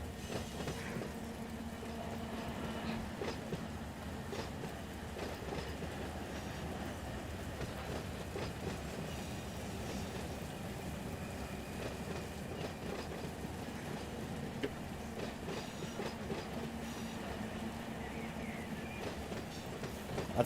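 A long freight train of BN cars rolls steadily through Moncrief depot in the Run8 train simulator game, with continuous rumbling wheels and faint rhythmic clickety-clack on the rails throughout, no talking.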